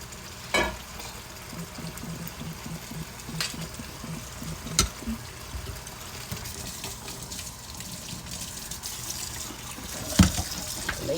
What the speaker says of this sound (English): Make sure I wash my noodles off.